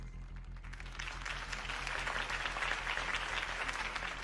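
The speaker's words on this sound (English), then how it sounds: "If only Mr. Wayne, my campaign's largest backer, could have heard that applause" Crowd applause at a political campaign rally in Batman: The Telltale Series, a steady dense wash of clapping that builds slightly and holds over a low musical drone.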